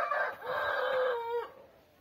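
A rooster on a small backyard poultry farm gives a single loud, close crow of about one and a half seconds, a strained, drawn-out call that trails off, heard alone.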